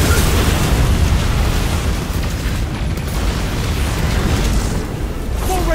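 A missile blast in the Destiny 2 game, a loud, sustained booming roar with rumbling low end that stays heavy for several seconds, alone without speech.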